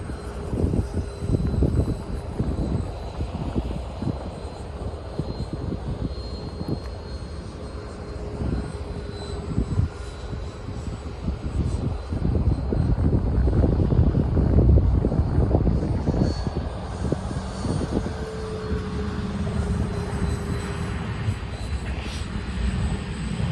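E-flite Habu STS RC jet plane flying overhead, its electric ducted-fan whine rising and fading as it passes at varying distance, with wind buffeting and a few faint voices.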